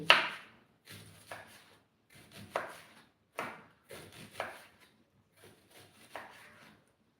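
A knife slices a small onion thinly on a board for a fish curry, giving a series of crisp chopping clusters with short pauses between them, close and clear with no talk.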